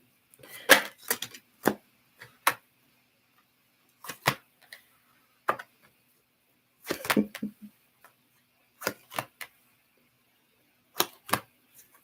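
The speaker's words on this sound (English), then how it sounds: "While I shuffle." Tarot cards shuffled by hand in a quiet room, giving sharp papery clicks and riffles in short clustered bursts separated by pauses, close and fairly soft with no talking.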